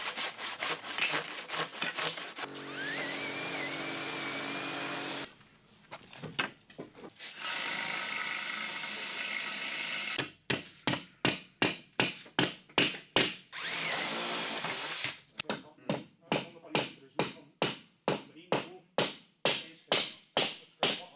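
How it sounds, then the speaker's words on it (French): Hand saw cutting through a stack of wooden slats together while finishing an attic, heard as loud rhythmic back-and-forth strokes in steady bursts, with a few pauses between runs of sawing and no talk. "vous pouvez scier un certain nombre de lattes ensemble"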